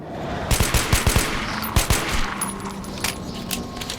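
Rapid gunfire in the post-apocalyptic shooter Metro 2033, a string of sharp punchy shots in quick bursts, loud and close, followed by a few scattered single reports and ambient rumble.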